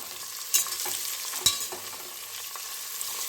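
Onions frying on medium flame in a pan for vegetable pulao, with a faint steady sizzle and a couple of sharper stirring clinks, close and quiet, no voices.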